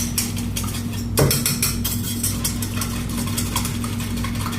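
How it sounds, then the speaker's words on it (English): A whisk beating batter in a bowl for fried squash, rapid repeated clinking scrapes against the bowl over a steady low hum of kitchen machinery, close and busy. "Whisk it together real good."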